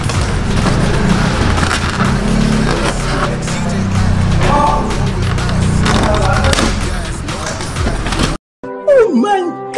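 Yamaha XMAX scooter fitted with an Akrapovic Slovenia exhaust, revved hard in a loud, sustained roar with rising and falling throttle for about eight seconds, then cut off abruptly, followed by brief voices.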